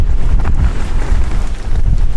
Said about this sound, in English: There's some hail and ice blowing in now.